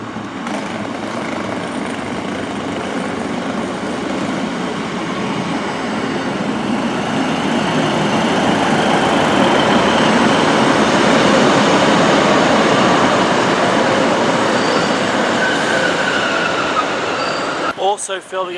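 An East Midlands Railway train passes through Derby station, a loud sustained rumble of wheels and engine lasting well over fifteen seconds, building slightly in the middle before a brief disturbance at the end.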